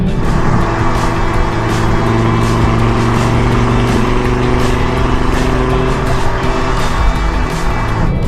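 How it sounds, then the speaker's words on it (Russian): An Audi TT RS, rated at 3.7 seconds to 100 km/h, accelerates hard with a loud, close, sustained engine roar that holds steady for the whole stretch. No one speaks. "Вы нажимаете, и машина уже летит на какой-то нереальной скорости."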